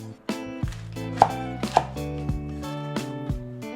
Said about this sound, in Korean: 대파는 큼지막하게 손가락 길이로 썰어 주시면 되시고, 이렇게 두꺼운 거는 반으로 갈라 주신 다음에 썰어 주시면 됩니다.